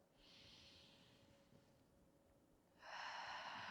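A deep breath in during a myofascial release exercise for the front body: a soft, airy inhale rising, a quiet pause, then a louder, fuller breath near the microphone, with no talking.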